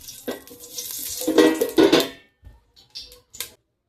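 Ghee stirred in a new pot while cooking prawn rice: a few brief scraping and sizzling strokes up close, followed by quieter, sparse clinks and light scrapes.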